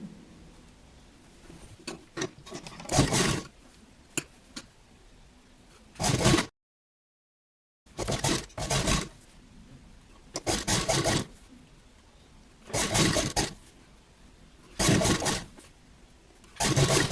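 A sewing machine stitching piping onto a belt-style blouse runs in several loud, close bursts of rapid stitching, with short pauses and one silent gap between runs, and no talking.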